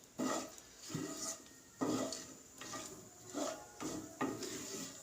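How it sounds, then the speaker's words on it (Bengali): Spices for a chicken curry are stirred in a frying pan: about half a dozen rhythmic scraping strokes over a faint, steady sizzle. The sound is close and moderately quiet, with no talk. "মশলাটা ভাজা হচ্ছে ততক্ষণ আমি একটু নাড়াচাড়া করে নেব"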